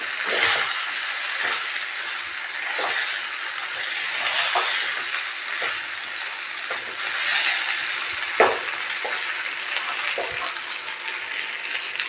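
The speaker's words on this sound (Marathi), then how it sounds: "तर इथं मस्तपैकी खिचडी फ्राय करून घेते मी" Khichdi fries in a pan with a continuous close sizzle, broken by irregular spoon scrapes and clacks against the pan.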